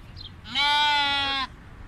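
A sheep bleats once at a large sheep market in Buraydah, a single harmonic-rich cry close by lasting about a second against low background murmur.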